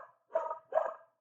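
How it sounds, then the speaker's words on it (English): A dog barks twice in quick succession, two short, moderately close woofs with a whimpering edge, heard indoors with no talk over them. "Excuse my crazy dog."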